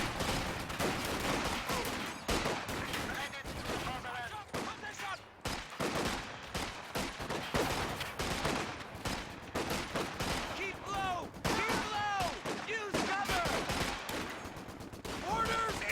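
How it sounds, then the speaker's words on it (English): Mortar blasts and machine gun bursts from Company of Heroes 2 play almost nonstop, a loud, dense battle soundscape with rattling rapid fire and heavy thuds, while voices and game effects mix in throughout. "That mortar forcing back that MG"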